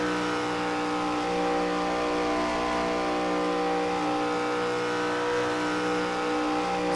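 A NASCAR ARCA Series race car engine held at full throttle around the track, a steady loud droning roar with a sustained pitch and only slight shifts, and no voices.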